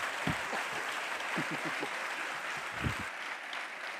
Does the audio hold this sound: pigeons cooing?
no